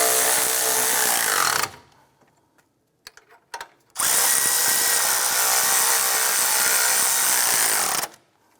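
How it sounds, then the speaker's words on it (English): A power tool whirs in two sustained bursts while tightening torque strut engine mount bolts on a 2006-2013 Chevrolet Impala. A brief pause with light clicks separates the loud, close runs. "Let's go ahead and tighten these bolts down."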